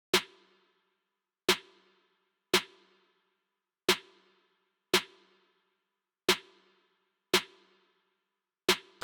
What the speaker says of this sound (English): I came up with this very simple snare pattern with a little bit of swing to it